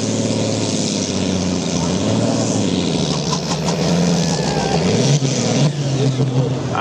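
A pulling tractor running the Top Gear entry roars loudly through a tractor pull attempt at an outdoor event in Oltingen. The engine drones steadily, then swells near the end.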